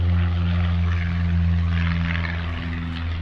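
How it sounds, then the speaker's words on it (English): Small propeller planes take off from a runway right beside the historic Spruce Creek cemetery in Port Orange. A loud, steady engine drone with a deep hum continues throughout, with no speech. "small engine planes taking off from the runway here, right next to this cemetery."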